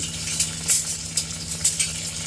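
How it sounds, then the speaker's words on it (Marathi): Steady sizzling of onions frying in hot oil in a pressure cooker, with soft intermittent scraping as they are stirred; no voices. "आता कांदा थोडासा व्यवस्थित फ्राय करून घ्यायचा"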